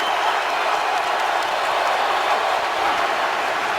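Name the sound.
stadium crowd noise at an American football game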